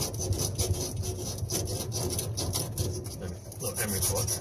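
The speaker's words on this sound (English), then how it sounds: "sand this a little bit." Emery cloth rubbed steadily over a Kenmore dryer drum wheel guide, a continuous close scraping rasp in short repeated strokes, with no talk over it.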